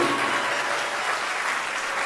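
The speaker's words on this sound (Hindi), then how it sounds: "तालियां मरी मराई क्यों बज रही हैं फिर आपकी?" Lukewarm, half-hearted applause rises from an audience at a religious discourse, a steady even patter of clapping held at moderate level for the whole stretch with no voices over it.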